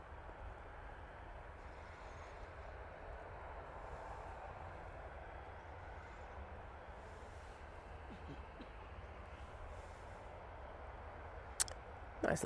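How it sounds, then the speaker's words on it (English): An ATR 72 turboprop from the Isle of Man lands at Manchester Airport, heard as a steady, distant broadband roar throughout with no voices. "The prop from the Isle of Man will be coming in soon as well."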